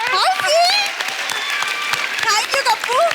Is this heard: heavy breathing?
no